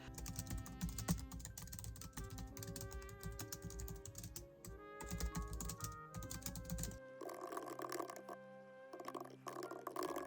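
Rapid, steady key clicks from a computer keyboard with a light, low-pressure key action, carrying on throughout under mixed background noise that changes partway through.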